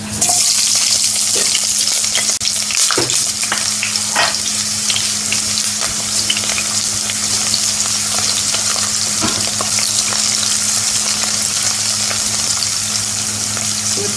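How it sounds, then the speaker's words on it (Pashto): Onions frying in oil in a pan, a loud continuous sizzle with occasional stirring scrapes and light taps, close up and steady throughout, with no voices. "یو پین کې موږ اویل اخیستی دي او دې کې پیاز اچوو"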